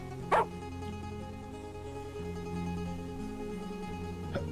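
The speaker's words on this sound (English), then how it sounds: "it seems like those dogs are having some kind of meeting" Dogs bark in the video game Xuan Yuan Sword 3, one short bark near the start and a fainter one at the end, both over a low steady drone of background game music.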